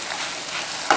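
Chicken korma simmers and fries in a pan after salt goes in, giving off a steady, loud, close sizzle, with a brief stirring scrape at the very end.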